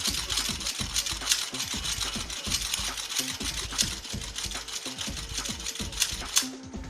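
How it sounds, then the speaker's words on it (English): The bolt of an AK rifle being charged again and again during cleaning, a series of close metallic clacks and sliding rattles repeating at a quick, fairly even rhythm. "we're going to also charge the bolt a bunch of times to just make sure that the grease has spread across the surfaces"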